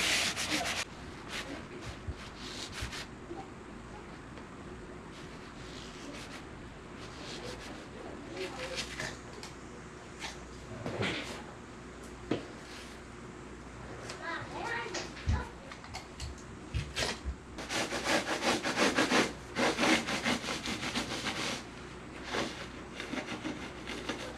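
A scrap piece of PVC pipe is pressed and rubbed back and forth over carpet patch tape on the carpet backing, giving soft, close scuffing and rubbing strokes that grow busier and louder toward the end.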